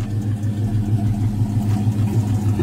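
A Chevrolet truck with a broken axle idles steadily with a low rumbling throb, close and loud, no voices.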